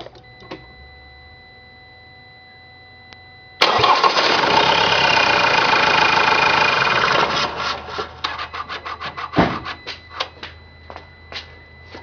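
A Ford Transit 2.2 TDCi diesel engine, with syringes fitted to its injector return lines, is quiet at first. It then cranks and catches into a loud, steady idle for a few seconds before being shut off and sputtering to a stop.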